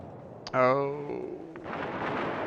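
Torpedo hits exploding against a ship in the naval game World of Warships, a rough rumbling blast that swells up after a short vocal exclamation and lingers as a steady roar.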